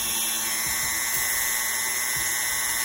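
A small rotary tool sands a plastic action figure ankle part flat, giving a steady high-pitched whine throughout with faint scraping, close and alone.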